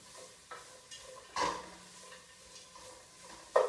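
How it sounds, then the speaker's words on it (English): Ginger, garlic and onion sautéing in a pan for bean sprout soup: soft, quiet sizzling with a few sharp clinks and scrapes of a utensil stirring against the pan. "So get these in here and saute them."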